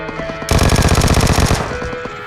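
Rapid automatic gunfire from the mobile battle royale game PUBG Mobile, a loud sustained burst of about a second of evenly spaced shots, with quieter game sounds before and after.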